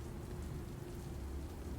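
Rain falling in the video game News Tower, a faint, steady low wash of rainfall throughout with no voices.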